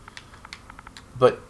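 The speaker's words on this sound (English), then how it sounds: "typing in Xbox takes forever" Rapid keyboard typing while entering a message on an Xbox in a Minecraft game, a quick run of light, close taps ending in a louder clack.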